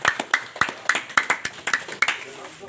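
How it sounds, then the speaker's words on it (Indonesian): Audience clapping at a regional candidate's campaign talk, a sparse run of sharp distinct handclaps, fairly close and loud, with a voice speaking faintly over it. "Tepuk tangan dulu dong"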